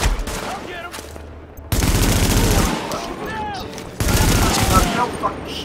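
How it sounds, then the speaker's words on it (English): Rapid automatic gunfire aimed at the player in the shooter game The Division, loud dense bursts that stop and start again several times, with voices and game sounds in the gaps. "Are you shooting at me?"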